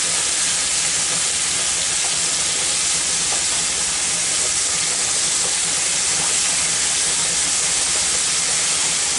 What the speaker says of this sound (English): as this ground beef cooks, it will begin to come all apart